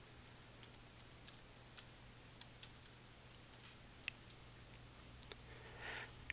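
Faint clicking of keys on a computer keyboard, a scattered run of light taps at an uneven pace, quiet and alone over a low steady hum.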